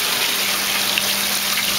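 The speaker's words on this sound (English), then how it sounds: "The wastewater with the poo comes up in the sieve" Wastewater carrying fish waste from a small DIY tilapia aquaculture system wells up through a 4-inch pipe into the bottom of a sieve. The result is a steady, close, continuous rush of water with no pauses and no one speaking.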